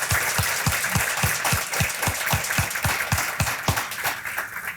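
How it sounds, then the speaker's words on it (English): An audience at an annual supporter celebration gives a round of applause, steady dense clapping from many hands with sharp individual claps up front, lasting throughout. "So let's please give all those folks a big round of applause."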